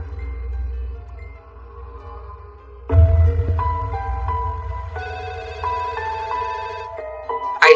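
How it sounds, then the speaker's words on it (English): A telephone rings with an electronic ringtone melody, a repeating pattern of clear tones that grows louder and fuller partway through and plays alone with no speech. "I started to get phone calls at work from Wayne."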